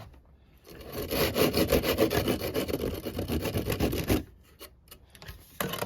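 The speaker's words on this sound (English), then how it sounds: "A bit more chiseling, neaten it up." Wood is chiseled for a small seat, with a fast rhythmic run of close scraping, rasping strokes that lasts about three seconds and then gives way to a few separate scrapes and knocks.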